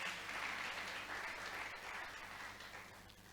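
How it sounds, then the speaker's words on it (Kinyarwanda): Audience applause, a dense steady wash of many hands clapping that fades slightly toward the end, heard alone without talking. "Mureke tubakomera amashyi."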